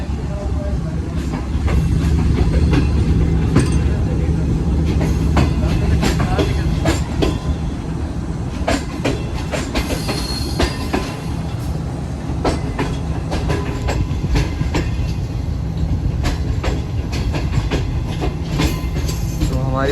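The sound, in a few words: Shalimar Express train running on rails, clickety-clack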